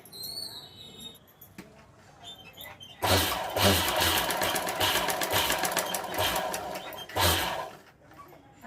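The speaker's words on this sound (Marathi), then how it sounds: "आपण इथं टिपा मारून घ्यायचे पहिल्यांदा ह्याच्यावरती आपण टिप मारून घे टिप मारून घ्यायची" A sewing machine stitches a sleeve in cloth, running in a loud, rapid burst from about three seconds on with a short pause near the end, after quieter handling noises.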